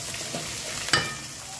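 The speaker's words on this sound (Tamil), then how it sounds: "இப்போ வெங்காயம் பூண்டு இது எல்லாம் நல்லா வதங்கணும்." Onions and garlic sauté in a pan with a steady, soft sizzle and a brief stirring scrape near the middle.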